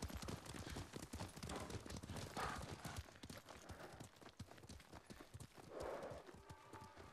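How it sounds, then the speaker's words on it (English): Steady clip-clop of horse hooves trotting along in Ghost of Tsushima, rhythmic and fairly close, with no voices. "Gonna follow the footsteps of the horse."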